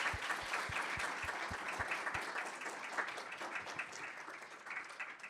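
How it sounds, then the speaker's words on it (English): An audience at a medical alumni careers panel gives a round of applause, a soft, distant patter of many hands clapping steadily, with a few low thumps near the start. "a round of applause for you both"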